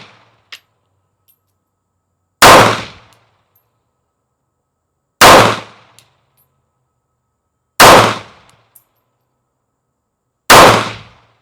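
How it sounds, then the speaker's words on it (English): Four sharp, loud pistol shots from a S&W M&P Bodyguard 380, fired slowly and evenly at about three-second intervals with silence between each report. "So we're going to shoot 5 shots, try to get it slow, and try to get it on target."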